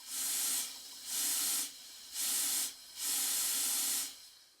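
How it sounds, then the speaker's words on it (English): A small showman's steam engine's blower valve opens in four separate bursts, each a loud, close hiss as a jet of steam rushes up the chimney, with brief quieter gaps between. "When I open the blower valve, this directs a jet of steam up the chimney to draw the fire."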